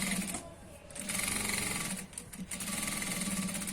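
A sewing machine stitches an ankle-length pant, running in steady rapid bursts with a brief pause near the start and another short break midway, close and loud.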